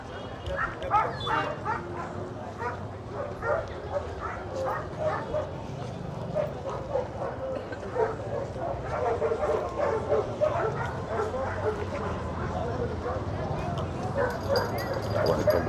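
Many dogs bark and yip at a crowded outdoor dog market, with frequent overlapping barks and whimpers amid busy crowd chatter and talking throughout.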